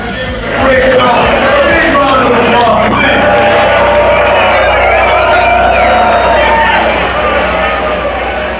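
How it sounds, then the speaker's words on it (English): A wrestling crowd at the 1720 Warehouse cheers, whoops and bellows after a championship win at a Rogue Wrestling Grand Prix tournament, a loud, sustained roar filling the whole stretch with voices shouting through it. "the crowd is still on their feet here at the 1720 Warehouse"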